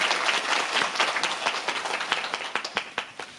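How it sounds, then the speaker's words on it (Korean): An audience applauds at a stage greeting after a musical theatre performance, dense clapping filling the space before thinning into scattered individual claps as it fades. "연주자분들한테 박수 한 번만 쳐주세요"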